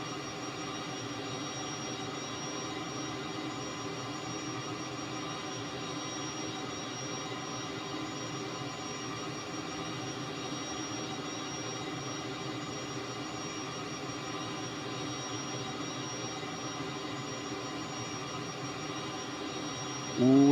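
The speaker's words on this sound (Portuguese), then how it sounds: "ele é um avião de treinamento fabricado pela Cessna" Steady whine and roar of a Cessna T-37B Tweet jet trainer's engines in Microsoft Flight Simulator, a constant, unbroken drone holding level throughout, with a brief louder burst at the very end.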